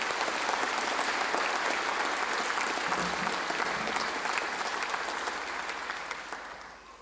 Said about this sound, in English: Please, may you give yourself a round of applause for being here